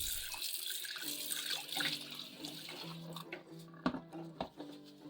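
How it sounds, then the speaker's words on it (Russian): Cold running tap water splashing over crystal dishes in a sink, with a few clinks of glassware near the end. "Смочите хрустальную посуду прохладной водой."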